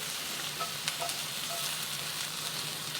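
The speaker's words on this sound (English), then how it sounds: "I'm going to cook this for about a minute, just until the onions are softened" Onions fry in a pan, a steady, moderately quiet sizzle with a continuous hiss and a few faint pops and crackles, without any talking.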